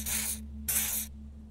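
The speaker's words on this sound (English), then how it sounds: "He douses you with the odd-smelling spray, a double helping as you present your other armpit" Two bursts of hissing pheromone spray from a canister in the Disco Elysium video game, each about half a second long, separated by a short pause, steady and close over a faint low hum.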